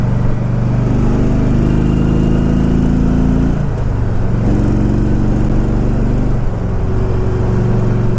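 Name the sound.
Harley-Davidson Ultra motorcycle accelerating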